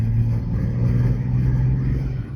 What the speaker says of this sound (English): Now if we were to take off again, accelerating up.